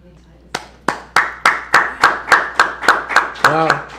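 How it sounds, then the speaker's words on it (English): Members of a concert crew clap in about a dozen loud, evenly spaced claps close by, followed by a brief whoop-like tonal sound near the end. "the whole crew is clapping like crazy over here"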